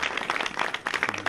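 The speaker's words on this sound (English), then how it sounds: "can we clap?" A hospital donation event audience claps in brief, uneven applause made of close overlapping hand claps.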